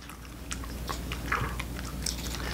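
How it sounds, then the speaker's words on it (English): A large dog chews a tough chew treat from a Bullymake box, with irregular crunchy bites and gnawing scrapes, close and moderately loud, no talking. "See her chewing away at it."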